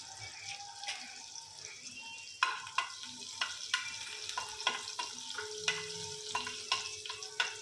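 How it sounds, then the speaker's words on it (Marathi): Crushed garlic fries in oil in a pan, giving a soft continuous sizzle punctuated by regular clinks and scrapes of stirring. "मस्त असा लसूण लाल होऊ द्यायचा."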